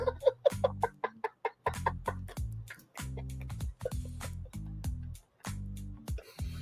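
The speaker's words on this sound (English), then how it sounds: "There are more chickens and roosters outside the courthouse." Chickens and roosters outside a courthouse make a run of rapid clucks and squawks, with a busy low rumble between the calls and no clear talking.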